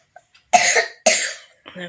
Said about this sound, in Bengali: কতটা কাশি হয়েছে ওর